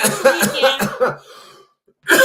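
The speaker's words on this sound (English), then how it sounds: "That was a legit cough." A burst of several harsh, rapid coughs close to the microphone, tapering off into a breathy rasp, then a short pause.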